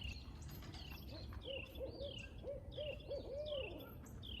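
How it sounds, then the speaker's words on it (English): A barred owl gives a rhythmic series of hoots in a quiet outdoor setting, moderately distant, the calls rising and falling in a repeated pattern over faint background noise. "How many hoots is that? 8 hoots, right?"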